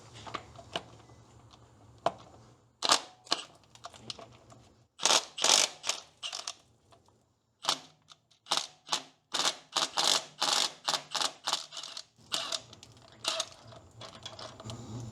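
A hand ratchet wrench clicks in quick bursts while loosening 3/4-inch bolts on a David Brown tractor's ramshaft bracket. Sharp, close ratcheting strokes come in irregular runs separated by brief pauses.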